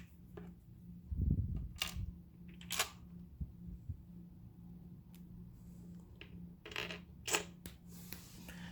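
Screws being driven into the plastic housing of a PureGuardian H965 ultrasonic humidifier during a fan repair, heard as scattered small clicks and taps, close and quiet, with a low steady hum underneath.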